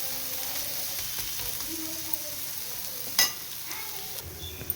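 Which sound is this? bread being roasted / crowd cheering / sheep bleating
bread being roasted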